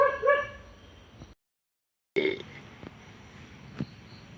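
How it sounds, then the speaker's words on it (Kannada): Dogs barking at night near a cremation ground, a few sharp yips and barks up front, then after a short gap more distant barking and whimpering continues faintly in the background. "ಭಾರಿ ನಾಯಿ ಕೊರೆತೊಂದುಂಡು"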